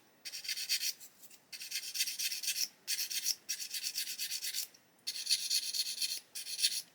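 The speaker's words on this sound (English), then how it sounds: "we get an old sanding stick." Nickel silver is rubbed with a worn old sanding stick in six rasping bursts of varying length, separated by short pauses, close and fairly quiet, with no talking.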